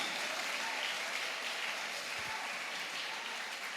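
A church congregation applauds during a sermon, a thick, even wash of clapping that holds steady throughout without pause or talk.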